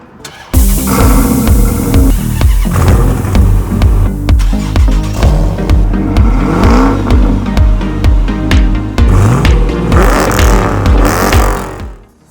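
Several sports car engines, among them a 2015 Chevrolet Camaro and a 2007 Dodge Charger R/T with a 5.7-liter V8, fire up and rev hard, loud and close, a continuous throaty roar with repeated surging revs until it cuts off.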